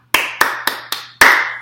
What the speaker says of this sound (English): Round of applause for Jacoby Brissett.